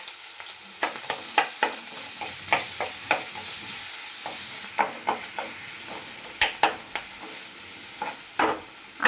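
Green chillies and onion fry in oil in a pan, a low steady sizzle punctuated by regular sharp clacks and scrapes of a spoon stirring, close and clear with no speech.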